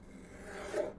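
A restored 1963 paper cutter slicing a very thin strip of paper: one brief, soft rasping swipe, close but quiet, with no voices.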